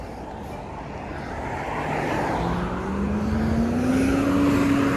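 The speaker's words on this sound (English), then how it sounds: "That's a Cummins engine. I think it's an ISL." Diesel bus with a Cummins ISL engine passing on a city street, a rising engine whine and rumble growing louder as it approaches, alone without talk.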